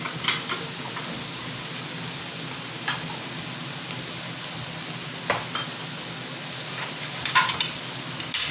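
Egg noodles sizzle in hot oil in a pan, a steady frying hiss punctuated by occasional scraping clinks of a utensil as they are stirred.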